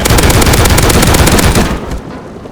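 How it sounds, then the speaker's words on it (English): Sustained automatic fire from an M2 heavy machine gun in the survival video game Rust: a dense, loud, continuous roar of rapid shots for about two seconds, then fading into a short tail. "It's only gonna take a couple clicks from the M2."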